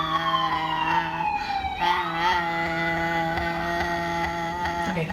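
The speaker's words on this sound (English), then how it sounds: "Now's your chance to do it while the siren's" An emergency vehicle siren sounds outside, its wailing tones loud and steady throughout and briefly sweeping in pitch near the start and end.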